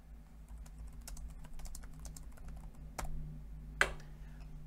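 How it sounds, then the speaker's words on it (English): Someone types comments on a computer keyboard, quiet irregular clicks and taps over a low hum, with one sharper keystroke near the end. "I can type in who's adding the data. And I can type in their comments."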